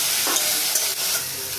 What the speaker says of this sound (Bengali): তেল দিয়ে দিলাম, পেঁয়াজ বাটা দিয়ে দিচ্ছি, পেঁয়াজটা ভাজতে ভাজতে এই যে আদা রসুনের পেস্ট